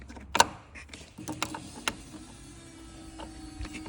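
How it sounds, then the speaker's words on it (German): A faint, steady electric hum from the fuel pump of a Porsche 911 3.2 Carrera, unstarted for 15 years, drones on after a few clicks and knocks, quiet and close. "Spritpumpe macht auf jeden Fall schon Geräusche."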